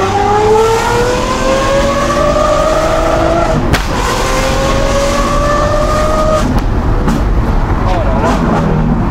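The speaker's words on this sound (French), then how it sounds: "c'est un échappement à valve" Lamborghini Aventador SVJ with a Gintani valved exhaust revs loudly and rises in pitch, its engine note climbing twice with a sharp crack between, heard close under excited talk.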